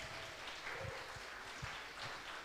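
Applause from a studio audience at a startup pitch competition show, faint and brief, with scattered claps over a soft room background.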